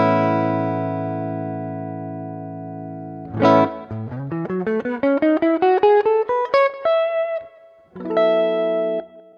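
An electric guitar plays through a UAD Enigmatic '82 Overdrive amp on its Suede channel into a JBL speaker. A held overdriven chord is followed by a quick rising run of plucked notes, then a final ringing chord, with no voices.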